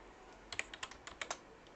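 Code is typed on a computer keyboard in a short, quick burst of about ten light, crisp key clicks, close and fairly quiet, with no talk over it.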